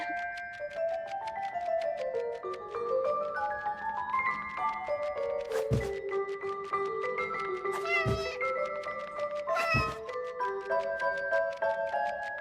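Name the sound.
cat Lotti meowing in video game 11-11 Memories Retold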